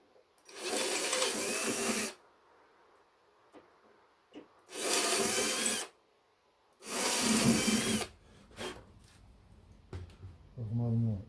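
A small drill enlarging screw holes in a motorcycle spare fuel can bracket, three separate bursts of whirring and grinding a couple of seconds each, close by, with quiet handling between them.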